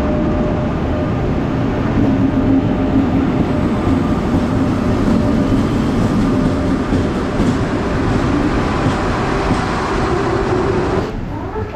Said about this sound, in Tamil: ட்ரெயினை ஷார்ப்பாக 8:35 உள்ளே வந்து கொண்டு வந்துட்டாங்க.